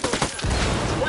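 A brief, loud burst of rapid gunfire rattles in the shooter game Ghost Recon: Wildlands, dense and close for just over a second.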